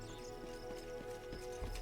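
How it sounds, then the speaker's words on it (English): Horses in the fantasy game Pathfinder: Kingmaker, with a steady clip-clop of hooves and a brief whinny over a constant game music bed, moderately loud throughout. "here are the horses"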